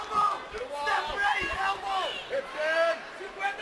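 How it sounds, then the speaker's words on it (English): The Omaha crowd at VFC 56 roars for hometown fighter Kassius Kayne, a sustained loud mass of cheering and shouts with a commentator's voice riding on top. "A huge reaction from this Omaha crowd, the home city of Kassius Kayne"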